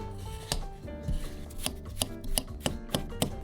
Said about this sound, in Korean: 포크 준비해서 긁어줘야 됩니다.